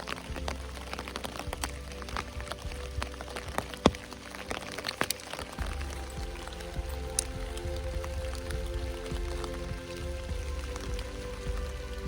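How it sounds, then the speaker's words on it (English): Light rain during a chilly fall hike near Stecoah Gap patters softly as scattered drops and faint ticks over a low, steady rumble, quiet overall and without speech. "It's a little chilly and rainy out"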